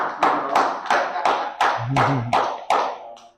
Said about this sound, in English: Let's give a round of applause for that, please.